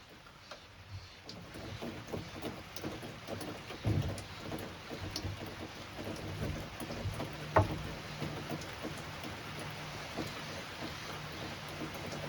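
Steady cold rain pours outdoors over a truck camper bed being framed, a dense even hiss filling the whole stretch, with a couple of louder knocks partway through and no voices.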